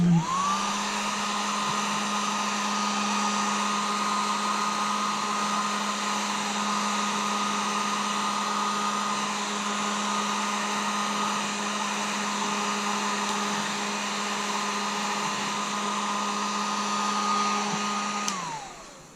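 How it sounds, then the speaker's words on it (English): A heat gun blows steadily and loudly for about eighteen seconds at close range during work on a Honda CR125R motocross bike, with an even whine that spins up at the start and winds down at the end. "Heat gun. Heat gun."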